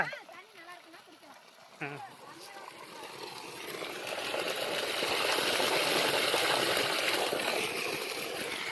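Water from an 850W BLDC solar pump gushes and splashes in a steady, swelling rush outdoors, growing louder and fuller over several seconds, with a person's voice heard near the start.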